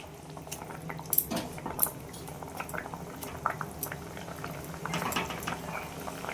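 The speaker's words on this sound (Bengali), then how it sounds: "জলটা ফুটবে, আলুটা সেদ্ধ হবে।" Fish curry with potatoes bubbling in a pot: steady close boiling with popping bursts and light liquid drips, plus a faint clink of a utensil, no voices.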